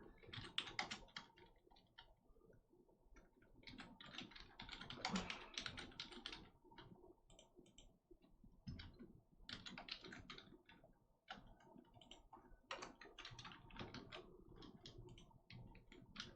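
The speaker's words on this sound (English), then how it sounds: "Sorry for the clacking noises." Computer keyboard typing clacks in steady bursts of rapid keystrokes, fairly close, with short pauses between flurries while playing the game From The Depths.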